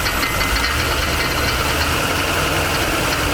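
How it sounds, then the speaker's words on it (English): A 1979 Chevy G20 Custom van engine running quietly on its first drive in 35 years, a steady close idle-like drone with faint knocking texture and no talk. "engine's quiet though"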